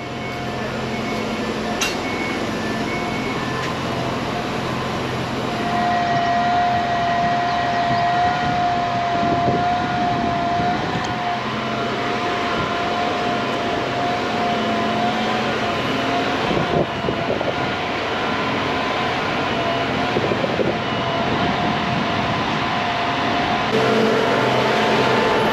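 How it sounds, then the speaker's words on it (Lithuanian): A Polish passenger train at a station on the route from Kaunas to Poland, heard as a loud, continuous mechanical rumble with a steady high whine that rises partway through and then fades. "Laiko turiu nedaug, reikia suspėti į lenkišką traukinį."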